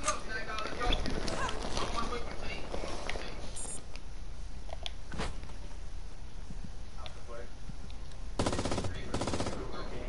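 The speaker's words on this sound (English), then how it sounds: "Oh, I'm getting shot at." Video game gunfire, rapid bursts of shots crackling in clusters with a heavy automatic burst near the end, set against game ambience while a player talks.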